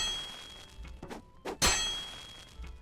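Blacksmithing in the video game ESO: a hammer strikes metal on an anvil with a few soft knocks, then one loud, sharp metallic clang that rings briefly and fades.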